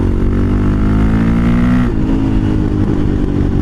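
Motorcycle engine idling loud and close after a full rebuild with valve, piston and carburetor work, its steady tone dipping and roughening partway through, hinting at uneven running.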